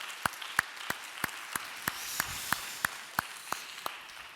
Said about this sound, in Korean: 하나님께 다시 한번 감사의 박수 한번 올려드리면 좋겠습니다